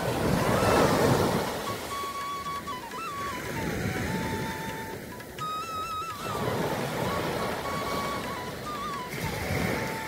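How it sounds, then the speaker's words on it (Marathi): Waves of the rising tide roll onto Keri beach in Goa, surging and washing ashore in slow swells under heavy wind buffeting against the microphone, with a faint wavering tone drifting above. "हे समुद्राचं भरतीचं पाणी येतं. आता भरती चालू आहे."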